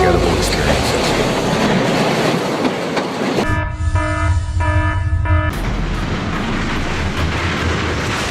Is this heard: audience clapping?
no